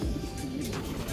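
Pigeons cooing close by, a short low burble among birds brought down from their perch, set against dense background noise.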